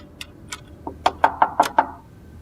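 Knocking on a wooden door indoors: two soft raps followed by a quicker run of five firm knocks, close and clear against a quiet room.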